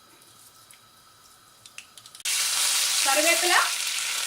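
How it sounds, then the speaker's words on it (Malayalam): Mustard seeds hit hot oil for a Kerala-style Kuttanadan duck curry, bursting into a sudden loud, steady sizzle with crackling pops after a few quiet clinks. A brief word is spoken beforehand. "നന്നായിട്ട് ചൂടായി വന്ന് അതിലേക്ക് നമുക്ക് കടുക് ഇട്ട് കൊടുക്കാം."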